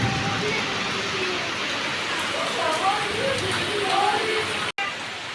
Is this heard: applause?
no